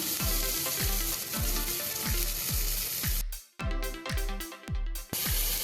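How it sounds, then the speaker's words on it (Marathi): Rice fries with softened tomatoes in a pan for tomato masala rice, a loud continuous sizzle broken by regular rhythmic scraping strokes of a spatula, closer and choppier toward the end. "तांदूळ घातलेले आहेत ते पण आपण जरा एकच मिनटं फक्त आपण फ्राय करून घेऊया"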